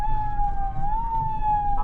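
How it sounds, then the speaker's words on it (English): A farm siren wails on a cattle ranch to call cows in for feed cake during calving season, one steady high tone holding near and loud with a faint engine rumble underneath. "the siren just lets them know it's time to come get some goodies"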